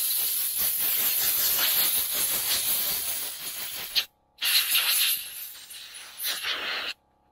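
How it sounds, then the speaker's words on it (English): Compressed air hissing steadily across the air filter of a Kubota BX23s compact tractor during service, a loud continuous rush that cuts out briefly, then resumes in shorter bursts. "you can blow across it to get rid of some of the bigger chunks"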